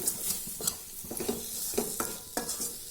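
Gram flour with chili powder, turmeric and salt is stirred in a pan for tomato besan curry, giving rhythmic scraping strokes about twice a second over a light sizzle, close and clear.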